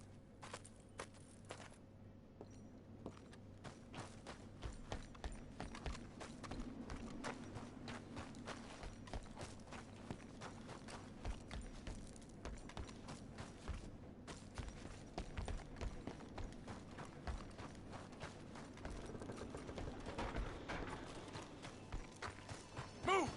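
Horse hooves clip-clopping at a steady walk in Red Dead Redemption 2, a continuous moderate rhythm under ambient game sound with occasional louder steps.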